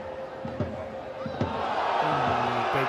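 A rugby league crowd at a Super League match between Castleford and Wigan roars in reaction to a big tackle, rising to a sustained loud swell, with a commentator talking over the crowd.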